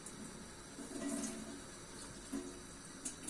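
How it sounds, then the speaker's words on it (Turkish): Water runs steadily from a kitchen tap while loose tea leaves are rinsed, a low continuous splashing with a few brighter splashes and knocks, fairly faint and without talk. "Ben çayımı hemen yıkayayım arkadaşlar."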